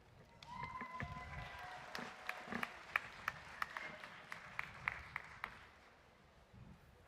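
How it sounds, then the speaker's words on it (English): Sparse applause at a college commencement: a few separate claps at some distance, irregular and thin, rising briefly in the middle and then fading toward quiet. "I'd like to thank the 7 of you who just applauded."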